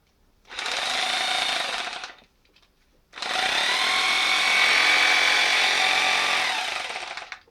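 A 1997 Bosch GBH 2-24 DSR rotary hammer drill runs in two bursts, a shorter one then a longer steady whir after a brief pause, loud and close with a high mechanical whine.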